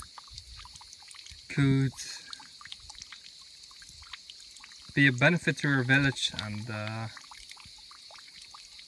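Water flows steadily from a tube at a spring in an abandoned Bulgarian village, a continuous trickling pour running low beneath someone speaking in short bursts.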